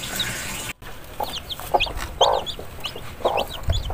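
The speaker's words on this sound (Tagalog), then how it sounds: "So ito na po yung mga sisiw." Zampen native chicken chicks and hens in a backyard breeding setup cluck and peep in short, close bursts, a busy stream of soft calls with no talking.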